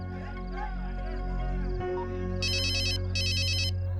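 A mobile phone rings with two bursts of an electronic ringtone over a low steady hum, fairly quiet.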